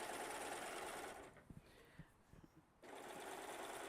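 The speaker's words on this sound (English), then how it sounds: "I'm serging the shoulder seams together." A serger stitches blouse shoulder seams together, a loud steady mechanical whir that pauses for about a second and a half with a few soft clicks, then resumes at full speed.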